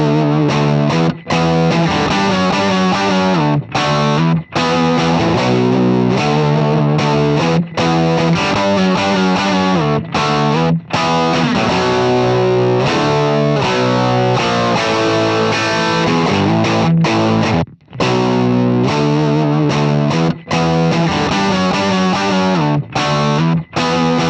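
An electric guitar played through a TH-U Made In Rock B-SAB 100 amp model. It produces heavy, distorted riffing with sustained chords and brief gaps, loud and continuous, and no one speaks.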